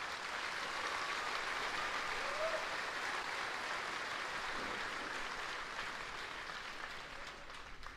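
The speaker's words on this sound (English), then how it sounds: "So please give them a round of applause." A large audience at a Fort Jackson basic training graduation ceremony applauds the 282nd Army Band, a sustained, even wash of clapping from many hands that fades slightly near the end, with no voices.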